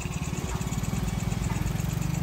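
Motorcycle engine running steadily close by, a continuous pulsing low rumble with a fast regular beat throughout, alone without talk.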